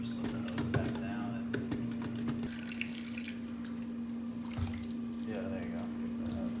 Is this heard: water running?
yes